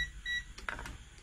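A repaired rice cooker gives a short, thin electronic beep, with faint handling clicks and a low background hum around it.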